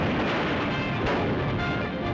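Heavy artillery guns firing in a 1938 Sino-Japanese War newsreel, a dense continuous rumble of booms and blasts with a sharper report near the middle.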